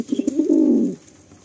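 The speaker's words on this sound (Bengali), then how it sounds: "পুরো অ্যাক্টিভ পায়রা" A Madrasi pigeon coos close by, three quick soft notes followed by a longer rolling coo, then quiet.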